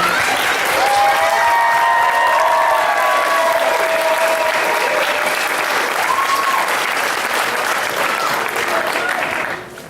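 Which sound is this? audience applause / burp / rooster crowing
audience applause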